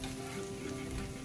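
Chicken livers sizzle steadily in a frying pan as they are stirred, a dense continuous crackle at moderate level with no pauses and no voices.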